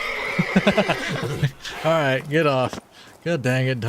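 A horse in The Witcher 3 whinnies loudly in a long, wavering neigh, followed by a second shorter neigh, while someone speaks over the start with frustrated remarks.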